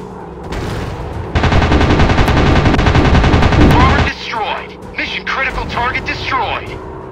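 Sustained machine gun fire rattles loudly from a WW2 warplane in a dogfight video game, a dense burst of about three seconds over engine drone, followed by game radio voices speaking.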